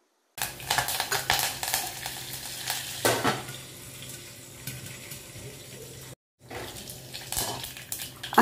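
Curry leaves hit hot oil in a pan already holding broken Byadgi chillies for a Konkani Chinese potato stir fry, giving a crackling, hissing sizzle with stirring scrapes, a brief pause, then the frying resumes with no talk.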